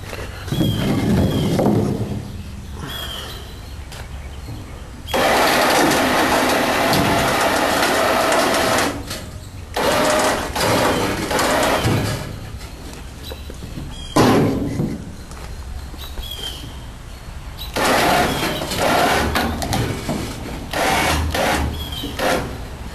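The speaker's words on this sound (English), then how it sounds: "now it's just a matter of working it and winching it on" A winch drags a Saturn car onto a trailer, its motor whirring in long mechanical pulls broken by short pauses and clanks, fairly close and loud with no talking.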